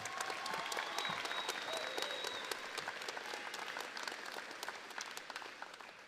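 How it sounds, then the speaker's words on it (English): Sustained applause from a crowd at a high school graduation ceremony, dense steady clapping that holds loud for about six seconds and eases slightly toward the end. "Let's give them one more round of applause."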